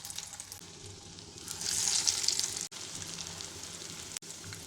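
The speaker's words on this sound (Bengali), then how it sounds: "এবার আমি আস্তে করে ছেড়ে দিচ্ছি তেলে।" Shaped pumpkin chops slide into hot oil over medium heat and fry with a steady crackling sizzle that swells briefly and then settles, with two sharp cuts in the sound.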